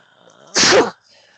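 A single loud, close human sneeze bursts out after a brief quiet stretch of faint background murmur, then cuts off into near silence.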